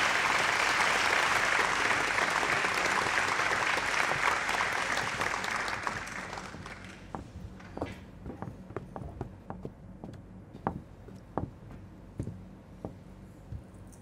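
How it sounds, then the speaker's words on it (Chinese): Loud, dense applause from a crowd at a corporate banquet fills the first six seconds, then thins into scattered, sharper individual claps that continue sparsely to the end. "掌声有请。"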